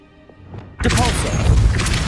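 Flipendo spell cast in Hogwarts Legacy: after a quiet lead-in, a sudden loud magical burst lands with a thudding impact and shimmering whooshing tail that sustains to the end.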